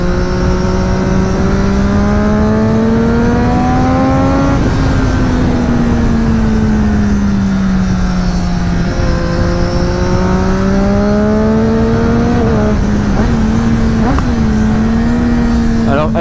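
Triumph Daytona 675 triple-cylinder motorcycle with its exhaust revving hard, a loud sustained engine howl rising and falling in pitch through several throttle sweeps, with sharper blips near the end.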